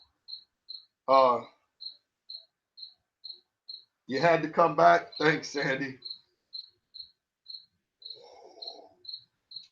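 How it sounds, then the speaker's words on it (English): A single cricket chirps in a garage in quick evenly spaced pulses that carry on throughout, with someone talking over part of it. "The crickets are loving the stream."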